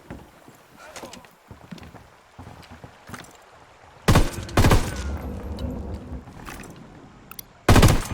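Gunfire in the tactical shooter game Ghost Recon Wildlands: several loud, sharp shots in separate bursts over quieter ambient game sound and faint background activity.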